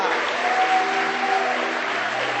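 A church congregation applauds during a worship service, a steady, dense wash of many hands clapping that fills the room for the whole stretch, with faint voices underneath.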